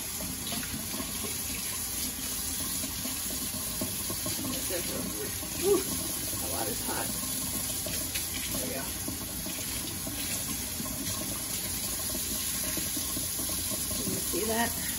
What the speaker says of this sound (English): So I take this, it's called the dishcloth, it's from Norway, and I just scrub it.